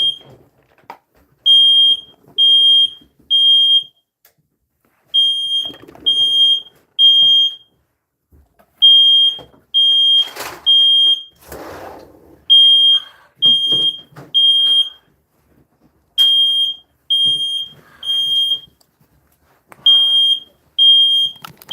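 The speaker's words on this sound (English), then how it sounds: "But my alarm's going off." A smoke alarm sounds in a room, shrill beeps in repeating groups of three with short pauses between, loud and close, with a few faint rustles in between.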